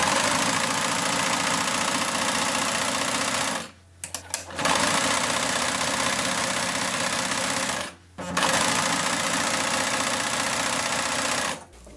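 A home sewing machine runs a small zigzag stitch in steady, continuous bursts, stopping briefly twice between runs; close and fairly loud with no talking.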